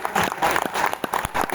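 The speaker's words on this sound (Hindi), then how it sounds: "इतनी तालियों से नहीं होगी" A live audience at a Hindi poetry recital by Hariom Pawar in Bulandshahr breaks into a short burst of uneven, moderately loud clapping that swells and thins over a second or two.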